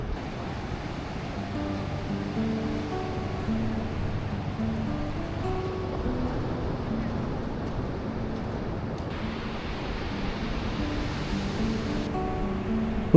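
Sea waves wash onto Danang beach on a morning, a continuous broad rush of surf with faint music in the background.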